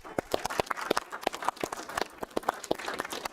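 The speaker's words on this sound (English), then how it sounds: "A round of applause, please." A school board meeting audience applauds diablo spinners, a few dozen hands clapping unevenly in a moderately quiet room for a few seconds.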